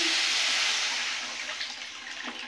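Water poured into a pan of cooked spice masala for a fish curry, a close rushing splash at the start that eases into a softer hiss and bubbling, with no voices.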